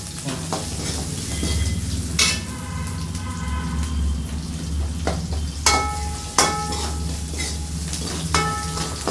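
Chopped ginger and garlic fry in hot oil for a Chettinad white chicken kurma, a loud steady sizzle broken by several sharp clanks of a spoon stirring against the pan.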